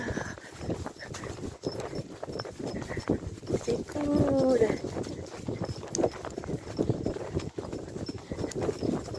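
Hooves of a ridden horse clip-clop at a walk on an outdoor ride, a steady near rhythm under frequent close talk from the rider.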